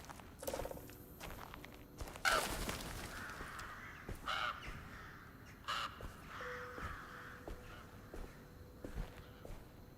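Crows caw in a few scattered calls in a dark, eerie Alone in the Dark game scene. Footsteps and other small game noises sit in the background, and there is no talking.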